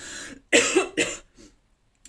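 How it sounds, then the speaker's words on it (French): Two harsh, close coughs in quick succession, followed by a softer third one and then quiet. "Ça ne passera jamais, cette toux"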